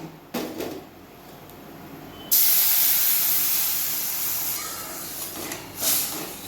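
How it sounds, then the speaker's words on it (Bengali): A sudden loud sizzling hiss bursts out and keeps steaming as water hits hot fried semolina, slowly settling but staying strong to the end. "এবার আমি এর মধ্যে জল দিয়ে দেব।"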